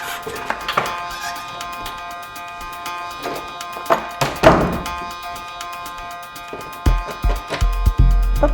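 Someone tries a locked door indoors, with a series of dull thunks and knocks spaced out over several seconds, then a cluster of heavier thumps near the end, over a quiet room with a faint steady tone.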